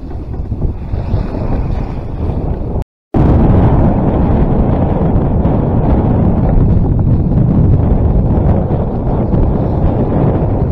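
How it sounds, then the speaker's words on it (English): Strong 25-knot summer gale wind roaring over a sailboat at sea in 3-meter seas, loud continuous buffeting and rushing with heavy mic wind noise, broken by a brief dropout, with no talk. "Okay, so that's blowing 25 knots now."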